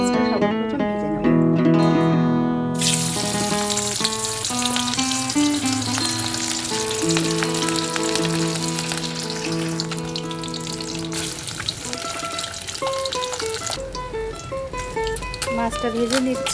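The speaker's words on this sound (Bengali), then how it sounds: "এখানে কড়াতে তেল দিয়েছি, তেলটা গরম হয়ে গেছে, মাছটা সর্বপ্রথম ভেজে নেব" Fish frying in hot oil in a wok gives a continuous crackling sizzle beneath louder background music with sustained tones, and a voice briefly speaks over it.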